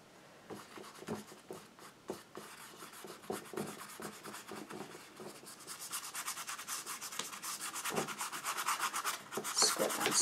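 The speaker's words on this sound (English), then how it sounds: "Scrub on some down here." A magic brush scrubs acrylic paint onto canvas in repeated short rough strokes, close and fairly faint at first, then becoming denser and louder toward the end, with no voices.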